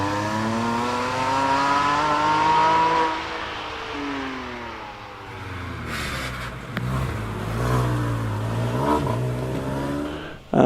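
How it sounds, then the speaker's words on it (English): A Porsche Boxster S racing up the Prescott hillclimb, its engine note rising and falling through gear changes, first near and loud, then receding to a fainter whine with a brief burst of noise at the end. "Tom Mogirossi in Ettores with his Porsche Boxster S."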